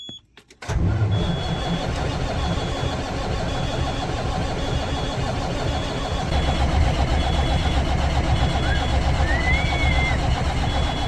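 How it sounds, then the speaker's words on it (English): An engine cranks briefly then fires and settles into a steady, loud mid-pitched idle that runs unbroken to the end, close by with no talk over it. "We're going to try to see if this thing's gonna crank and build oil pressure."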